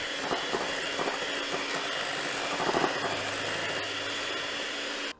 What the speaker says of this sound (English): we're gonna take our hand mixer and we're gonna whisk this until it makes nice stiff peaks.